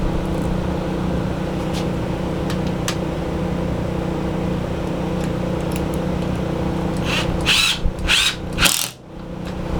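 A power tool drives a screw into a wooden brace for a farmhouse dog feeder, a steady motor hum running throughout with a few brief clicks, then a burst of short grinding pulses near the end.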